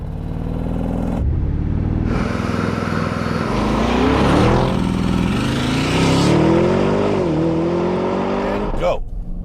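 An Audi RSQ8 in manual dynamic mode launches hard from a standstill, its engine note climbing loudly through gear shifts with brief dips between them, close and continuous inside the cabin.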